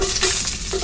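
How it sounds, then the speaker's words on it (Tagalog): Onion, garlic, ginger and tomato sautéing in hot oil in a pan, giving a steady, close crackling sizzle with stirring throughout the short stretch. "Mag-isa muna tayo ng sibuyas, bawang, tsaka luya"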